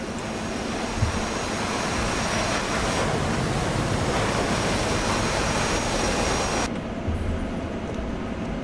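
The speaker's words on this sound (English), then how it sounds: "Oh yeah, the Hornet's a nice jet." An F/A-18 Hornet's jet engine in a flight video game gives a steady, loud broadband roar that holds without a break before dropping away abruptly near the end.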